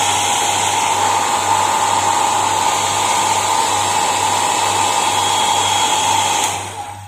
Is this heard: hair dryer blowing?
yes